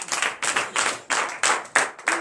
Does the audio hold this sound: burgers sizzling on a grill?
no